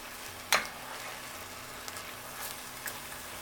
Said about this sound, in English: let this cook until those onions are caramelized and this ground beef is cooked